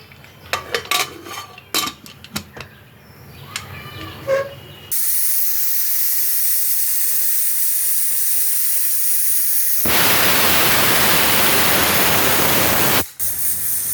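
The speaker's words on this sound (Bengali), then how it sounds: "এখন আমি প্রেসার কুকারটা আটকে দেবো, 4-5টা সিটি হবে।" A pressure cooker on the stove, steaming eggs in gourd leaves, starts with clinks of pots and the lid, then vents steam in a loud, continuous hiss that grows stronger before briefly cutting off. No one speaks.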